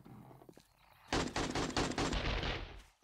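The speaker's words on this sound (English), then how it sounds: "Oh my god, is it guns going off?" Rapid automatic gunfire bursts out in the 7 Days to Die video game, a loud, dense rattle of shots lasting about two seconds after a brief quieter lead-in.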